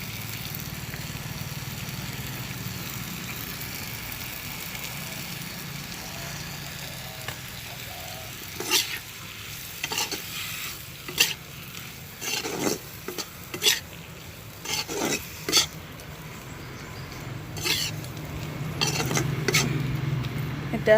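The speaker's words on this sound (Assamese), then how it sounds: "এতিয়া শাক আৰু বিলাহী ভালদৰে সিজিবলৈ দিম। বিলাহী আৰু শাক ভজা হৈ গৈছে।" Greens and tomatoes frying in a pan, a low steady sizzle at first, then a run of sharp utensil scrapes and clanks against the pan as they are stirred, with no one speaking.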